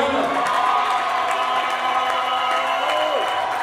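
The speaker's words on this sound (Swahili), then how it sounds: "wangemshangilia Bwana Yesu makofi na vigelegele" A church congregation claps steadily and ululates in a sustained wash of applause and high trilling cries, loud and continuous throughout.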